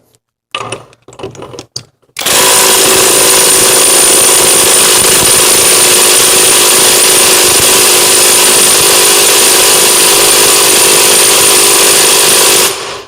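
A KAMOLEE DTW500 cordless impact wrench starts with a few short bursts, then runs as a loud, continuous rattling hammer for about ten seconds before stopping abruptly.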